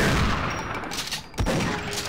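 Rapid, loud gunfire fills the scene in Half-Life Sven Co-op, a dense continuous barrage with a sharp blast partway through, as a shotgun joins other weapons.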